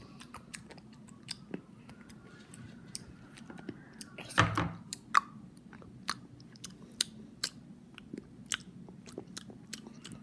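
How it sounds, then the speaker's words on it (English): Cold ice being chewed and crunched close to the mic, a steady run of small sharp crisp crunches with one louder bite partway through, otherwise quiet. "That was cold ice ASMR."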